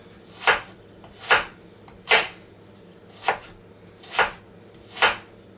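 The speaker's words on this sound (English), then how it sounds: "ride your knuckles with the knife and make very, very thin slices" A knife cuts a carrot into very thin slices, guided along the knuckles. Six crisp, evenly spaced chops land on a board, close and clear, with no talk.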